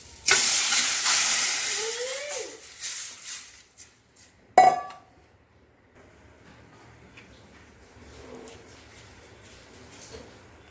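Tamarind water poured into a hot tempering of fenugreek and curry leaves for rasam: a loud burst of hissing sizzle that fades, a sharp clink, then a quiet low simmer.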